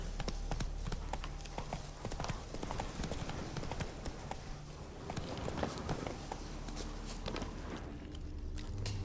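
Horse hooves clip-clop in a steady walking rhythm of repeated sharp knocks in the Witcher 3 video game, with ambient game sound underneath.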